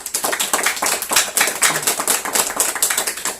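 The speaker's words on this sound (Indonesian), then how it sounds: "Tepuk tangan buat Tuhan Yesus" Church congregation clapping hands together in praise for Jesus, a dense, steady patter of many hands ringing out close and loud with no talking over it.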